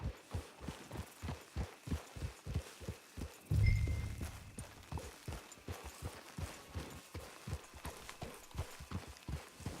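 Horse hooves clip-clop in a steady walking rhythm as a rider travels in a video game, each hoofbeat a soft, even thud, with one brief louder thump partway through.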